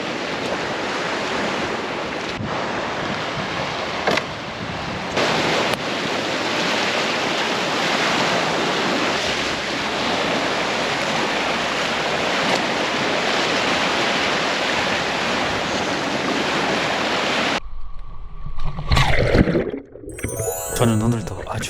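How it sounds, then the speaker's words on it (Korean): Rough winter sea waves on a grey, overcast day, a loud, continuous roar of surf mixed with wind buffeting the microphone for most of the stretch before it cuts to other, quieter sounds. "야, 파도 보세요, 파도."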